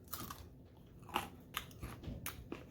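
Crunchy homemade cinnamon granola being bitten and chewed close up, a few sharp crisp crunches in quick succession, quiet and alone without speech.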